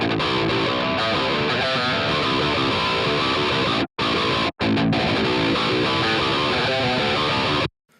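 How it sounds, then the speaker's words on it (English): An overdriven electric guitar amplifier, its distortion fed through a volume pedal placed before the amp, plays a dense, loud, continuous distorted tone with two brief dropouts to silence and an abrupt stop near the end. "So you can hear as I lower the volume pedal, we're getting a lot less gain out of the amp."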